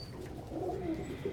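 Pigeons in a flock on the ground around a young squeaker coo softly, a brief low burbling call close by with no talk.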